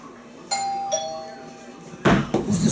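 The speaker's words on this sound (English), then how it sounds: "Who's this ringing this damn bell?" A doorbell rings indoors with two clear chime tones, followed by louder thumping and voices near the end.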